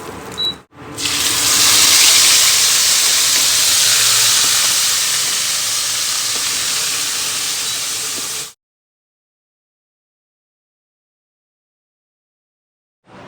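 Hot tempering of cumin, coriander-cumin powder, chili, salt and turmeric is poured onto a fried potato curry. It gives a loud, steady sizzle for about seven seconds that cuts off abruptly into silence.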